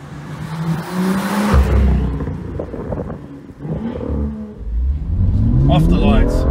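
A BMW M2 Coupe's engine revs and accelerates hard, rising in pitch through gears with a brief lift between pulls, loud and close, mixed with someone talking over it.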